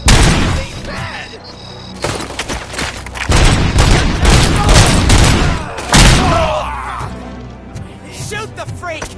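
Gunfire in a video game, rapid bursts of shots and heavy booms over several seconds, loud and close, mixed with shouting voices.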